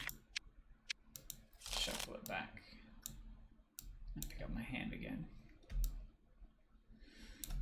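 Board game cards being shuffled and handled during a game of Love by Daylight, with soft clicking, crinkling riffles and short bursts of card noise, close and fairly quiet, alongside some talking.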